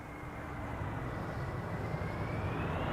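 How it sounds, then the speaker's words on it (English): A landing airliner at Amsterdam Schiphol on a windy December day, its thrust reversers giving a steady rising jet roar with a faint climbing whine, moderately distant and continuous. "Yes, reversers."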